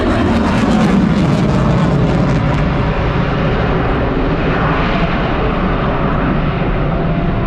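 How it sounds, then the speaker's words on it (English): F-35C fighter jet performing a tactical pitch at an air show, a loud continuous roar that fills the whole stretch and shifts slightly in tone as it passes, with no voices. "From the left, the F-35C's tactical pitch."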